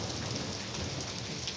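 Heavy rain pours steadily in a mountain village during a May storm, a dense, loud hiss of drops hitting surfaces that stays constant throughout with no talking.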